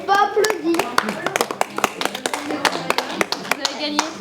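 An audience at a French game or prize draw applauds: a sparse burst of individual hand claps from a small group, sharp and close, with a voice talking at the start.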